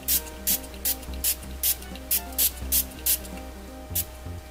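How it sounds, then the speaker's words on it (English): A spray bottle misting water over a Frozen Aquabeads bead design of Elsa and Anna, giving about a dozen short, regular hissing bursts close up, with faint background music underneath. "And let's give it a spray."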